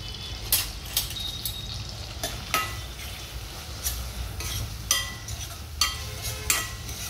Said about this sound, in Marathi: छान गुलाबी बदामी रंगावर कांदा भाजून